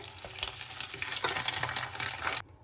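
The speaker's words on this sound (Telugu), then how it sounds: "ఇదే కడాయిలోనే ఆనియన్స్ అయితే ఫ్రై చేసుకున్నాము" Onions and eggs fry in a kadai for Afghani egg curry, giving a dense, crackling sizzle with stirring scrapes that cuts off abruptly just before the end.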